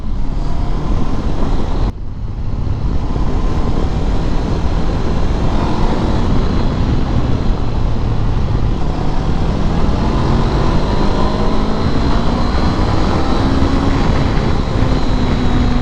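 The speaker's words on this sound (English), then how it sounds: "it's got a nice exhaust note" A Honda CB500X motorcycle's steady engine drone with heavy wind rush while riding, the exhaust note rising and falling slightly throughout, loud and continuous.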